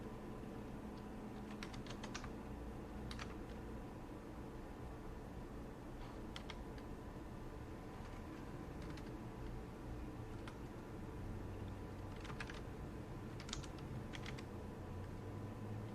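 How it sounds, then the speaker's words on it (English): A command is typed on a computer keyboard under Slackware Linux, short clusters of quick key taps separated by pauses, over a constant loud fan-like hiss. "I'm going to type in a command where say locate."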